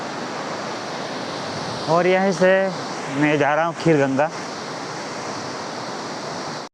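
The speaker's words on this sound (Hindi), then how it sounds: "तो दोस्तों ये पार्वती नदी है" The Parvati river rushes loudly as a steady, broad roar of flowing water, continuing under someone speaking near the middle.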